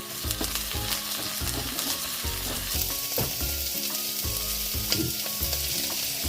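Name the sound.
onion and garlic frying in a pan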